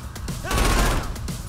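Rapid gunfire from dual pistols in the Saints Row IV video game, a dense burst of shots filling the short moment at close range with no talk over it.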